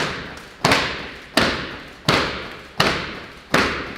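Sharp, heavy thuds from people jumping and landing during a training workout for youths and adults, six landings at a steady rhythm about 0.7 seconds apart, each impact ringing briefly in a room with no talk over them.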